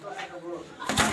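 A pigeon coos softly inside a loft in Rajbari where racing pigeons are kept, a short murmuring call followed by a brief burst of rustling noise near the end.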